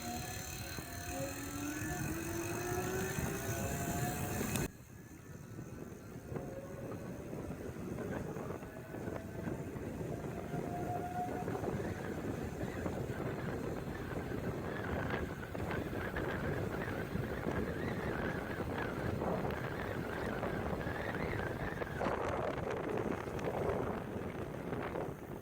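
A bike fitted with an Ebikeling 48V 1200W conversion kit rides fast under throttle alone, heavy wind rush across the mic all the way through, with a faint motor whine rising and falling beneath it and no talking.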